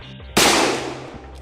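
A single sharp gunshot cracks out during a police encounter with armed criminals in India, loud and close, its noisy blast trailing off over about a second against a low background hum.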